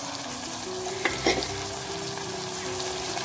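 Curry leaves, tomato, turmeric, sambar powder and salt sautéing in a pan, a steady close sizzle under occasional stirring scrapes, with no talking.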